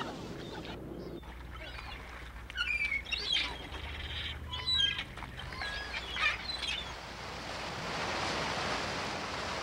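Ducks on the water along the west coast in winter, giving a scattering of short chirping calls over a steady wash of surf, with the waves swelling louder toward the end.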